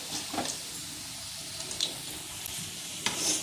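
Onion bajji fritters fry in hot oil with a soft, steady sizzle and a few faint clinks and stirring noises. The sound stays low and comes without any talk.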